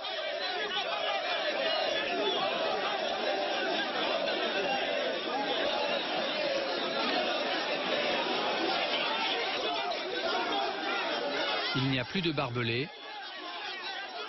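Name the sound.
crowd held back by Ivorian gendarmes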